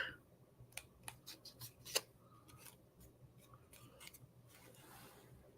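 Scissors trimming a tag with a few quiet, crisp snips close by in the first two seconds, the sharpest near the end of the run, then only faint room noise.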